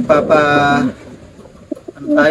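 Pigeons coo in low, throaty calls nearby, a burst of cooing at the start and again at the end with a quiet pause between.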